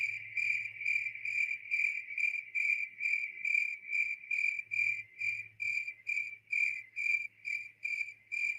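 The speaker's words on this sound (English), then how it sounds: "We heard crickets." Crickets chirp steadily in a repeating rhythmic pulse, a bright trilling chorus that carries on alone without pause, with a faint low hum underneath.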